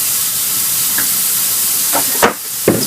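Burger and French fries cooking on a stove, a steady close sizzle and hiss running throughout with a few brief louder crackles and clatters near the end.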